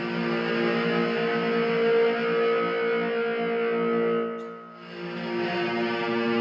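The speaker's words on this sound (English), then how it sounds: "then we're gonna bring in that distortion" A loud, sustained electric guitar chord heavy with distortion rings steadily, dipping briefly in volume before swelling back in; no one speaks.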